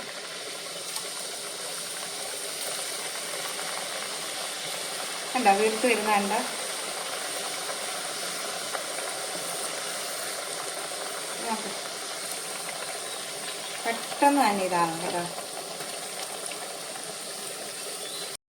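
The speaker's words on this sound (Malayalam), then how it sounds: "ഇത് നീ നമുക്കൊന്ന് വറുത്തെടുക്കാം. ഓയിലാണ്, ഓയിലിനകത്താണ് വറുക്കുന്നത്." Poori dough deep-frying in hot oil: a steady, close sizzling hiss runs throughout, with a person talking over it twice.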